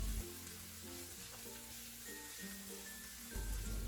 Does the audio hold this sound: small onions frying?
yes